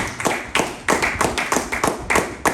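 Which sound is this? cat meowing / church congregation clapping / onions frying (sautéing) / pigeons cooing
church congregation clapping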